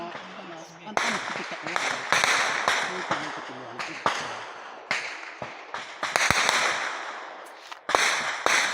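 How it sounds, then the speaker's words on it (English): Sharp gunshots crack repeatedly during a gunfight in Moreh, irregular bursts of single and clustered shots with background voices and noise between them. "you can hear the sounds of gunshots ringing in the air."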